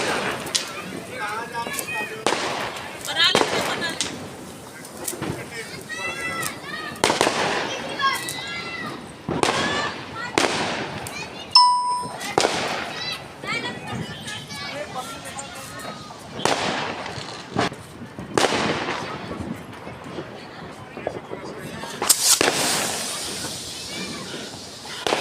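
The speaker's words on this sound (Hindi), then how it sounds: "तो नीचे जो है बच्चे पटाखे फोड़ रहे हैं।" Children set off firecrackers outdoors during a Diwali family celebration, with repeated sharp bangs and crackling hissing bursts scattered throughout, some near and some farther off, mixed with voices talking.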